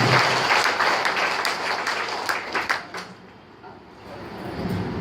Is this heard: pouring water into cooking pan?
no